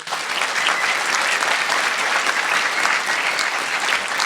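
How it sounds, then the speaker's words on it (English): Sustained applause from an audience at an awards gala opening, a dense, loud wash of clapping hands that holds steady throughout with no talk over it. "So can we please have a huge round of applause for Charles"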